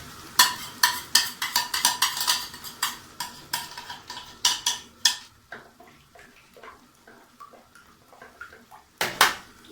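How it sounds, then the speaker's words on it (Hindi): Mint chutney being stirred into a chicken biryani mixture in a metal pot, a rapid run of loud spoon scrapes and clinks against the pot that thins out into softer, sparser stirring taps, with one final sharp clack. "मैं इसे अच्छे से मिक्स करूँगा"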